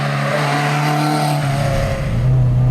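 An Alpine Renault A110 Berlinette 1600 SC driven hard, its engine loud and close with a steady tone that drops as the driver shifts, then climbs again under acceleration.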